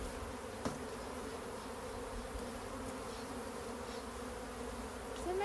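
Honeybees hum steadily around a hive in a constant droning buzz, close by, with individual bees flitting past the listener.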